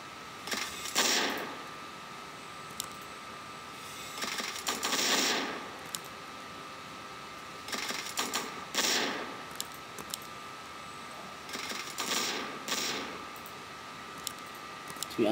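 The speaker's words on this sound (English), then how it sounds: "So yeah, mortar teams can attack trees." Mortar teams attacking trees in Warcraft 3: a series of separate bursts, each a short crack and crunch of impact, arriving in irregular spaced pairs over a quiet, steady game background.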